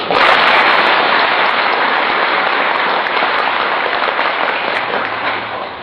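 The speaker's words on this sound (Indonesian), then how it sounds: "Tepuk tangan dulu" An audience claps together in a dense, steady wash of applause that stays loud and even for the whole stretch with no talk over it.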